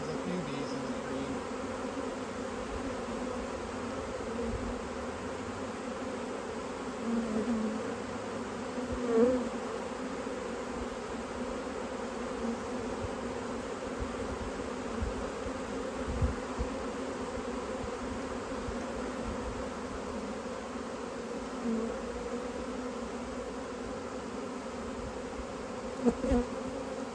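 A steady, low hum of a honeybee swarm buzzing together near a tree, continuous and fairly quiet, with occasional single bees passing closer.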